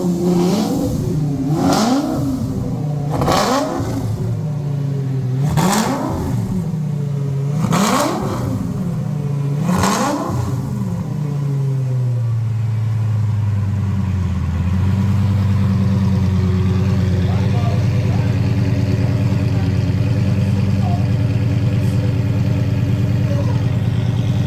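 A Lamborghini engine fitted with a titanium slip-on exhaust revs in five sharp, loud blips around 2,000 RPM, then settles into a deep steady idle rumble heard close up.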